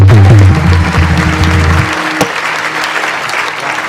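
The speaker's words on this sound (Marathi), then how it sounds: "लई जोरात टाळ्या वाजल्या" Loud applause from a crowd at a Warkari kirtan, steady and sustained, with a low droning tone fading out near the start.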